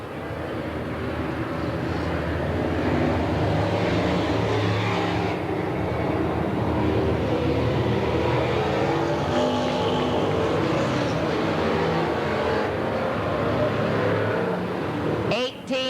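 Stock cars race around Willamette Speedway in a 1989 P.O.S.S.E. event, their engines making a continuous loud, droning roar at a distance, with an announcer talking over the noise.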